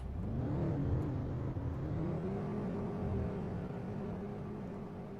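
A truck driven in the Planet Crafter video game, its engine revving and whirring with a steady mid-range rumble that holds loud and continuous throughout, with no talking.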